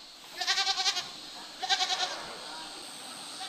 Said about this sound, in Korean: 윤기 나는 검은색의 털이 시선을 이끄는 이 동물, 바로 염소인데요.